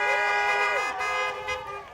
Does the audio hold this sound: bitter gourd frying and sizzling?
no